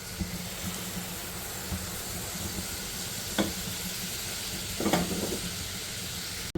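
Raw green mango pulp hits a hot pan for chutney, setting off a steady close sizzle and frying hiss with a few louder bursts as it is stirred, no talking.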